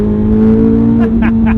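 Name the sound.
Chevrolet Corvette Z06 flat-plane V8 engine revving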